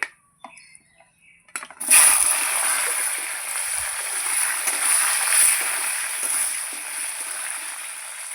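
Diced potatoes and kohlrabi drop into hot oil seasoned with cumin and dried chilli, setting off a loud, sustained hiss and sizzle that rises suddenly after a few quiet clattering sounds and keeps going steadily.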